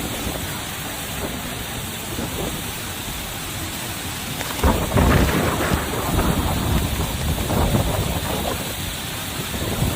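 Heavy rain from Typhoon Yagi pours steadily in Yunnan, a continuous dense hiss that swells louder about halfway through with low rumbling that may be distant thunder.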